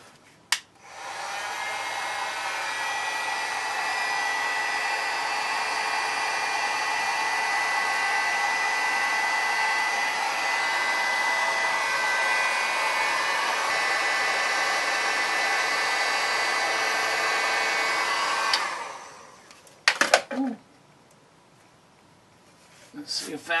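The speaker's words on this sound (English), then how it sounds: "I'm going to take my heat gun and heat that up a little" Heat gun warming the torsion bar area of a 1974 Plymouth Duster during restoration, a steady loud blowing whine that runs nearly twenty seconds and then cuts off, followed by a few clanks.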